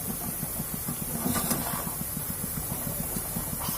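Laddu dough fries in a pan of hot oil for an extra-large laddu, giving a continuous close sizzling hiss with quick, rhythmic bubbling crackles throughout.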